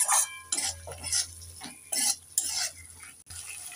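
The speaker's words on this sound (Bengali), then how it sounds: "নেড়ে চেড়ে দিয়ে দেব।" A spatula stirs lata fish curry masala with chopped tomato and slit green chillies in a pan, producing repeated close scraping strokes with soft clinks over a faint low sizzle, no talking.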